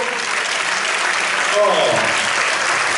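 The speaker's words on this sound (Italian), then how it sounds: "mi fate sentire un bel applauso caldo?" Warm applause from a live concert crowd greets a blues band at an outdoor music event, a dense, steady wash of clapping that holds loud and unbroken throughout, with a voice briefly rising over it.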